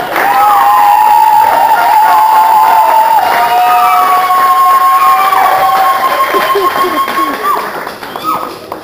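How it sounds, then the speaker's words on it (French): A church congregation applauds during a Lenten sermon with sustained clapping and cheering, while voices carry loudly over the crowd noise. "Vous ne pouvez pas applaudir?"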